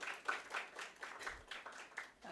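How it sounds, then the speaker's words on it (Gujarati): An audience at a lecture on emotional issues and food habits applauds to welcome a dietitian speaker, producing a steady patter of moderate clapping that sounds fairly distant and a little thin. "તાળીઓનો ગડગડાટ કરી એમનું સ્વાગત કરીએ"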